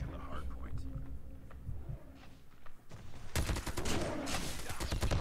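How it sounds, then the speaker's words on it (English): Bursts of automatic gunfire in a first-person shooter game, starting under an excited voice and then louder rapid shots that keep going to the end. "I'm getting shot in the back!"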